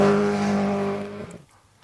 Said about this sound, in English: if you listen, the car just doesn't quite have the grunt